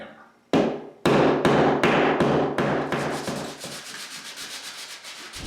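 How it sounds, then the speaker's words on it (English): A hammer tapping the collar of a molly bolt anchor flush into a drywall wall, about ten sharp, evenly spaced knocks, the first few louder and the later ones quicker and softer. "you need to tap it in a bit with a hammer"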